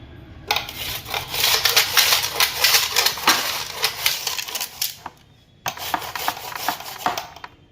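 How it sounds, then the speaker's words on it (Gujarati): Three onions are rubbed against a hand grater for dry Manchurian balls, making a dense, scratchy rasping of rapid strokes close by. It breaks off briefly, then resumes with more rhythmic scraping. "તો આ 3 ડુંગળીને પણ આપણે છીણી નાખીએ."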